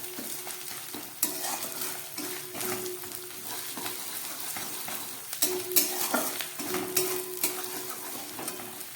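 Ginger paste sizzles in a hot pan with rice while a spoon stirs it, giving a soft steady fry marked by repeated scraping strokes that grow busier toward the end, up close and with no speech.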